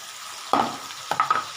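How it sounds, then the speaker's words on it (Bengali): Onions hit a hot pan in short bursts, with a sharp sizzle and stirring scrapes at two points, close and fairly quiet, the gap between them nearly silent. "কিছুটা পেঁয়াজ আমি এই দেখো ভেজে নিই"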